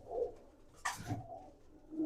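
A large old pigeon of the Mirab-line Punjabi breed gives soft, low coos near the start and end, with a brief rustle or scuffle in between, quiet and without talk.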